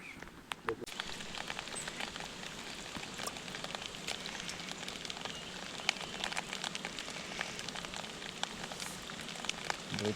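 Steady rain falls outdoors where crabs are being dug out of burrows. It makes a continuous hiss with scattered crisp drop taps, holding at an even, moderate level throughout.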